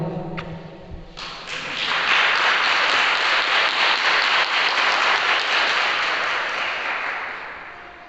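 A church congregation claps together after a Bible reading, a dense wash of hands that swells quickly, holds steady and loud for several seconds, then slowly fades.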